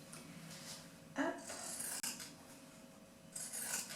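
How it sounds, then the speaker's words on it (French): Pinking shears snipping through cotton fabric being cut for a beeswax wrap, a few soft crunching cuts close by, quiet, with brief gaps between strokes. "maintenant je vais le couper au ciseau cranté"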